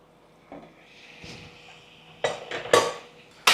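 A lid set down on a pot of chicken curry cooking with chili, ginger and garlic: a couple of light metal clinks and clatters, close and fairly loud, with softer scraping before them and no speech.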